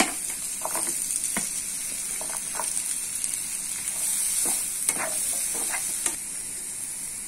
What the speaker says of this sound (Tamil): இப்போ நம்ம எடுத்து வச்சிருக்க ஆனியன் இதில் மிக்ஸ் பண்ணிக்கலாம்.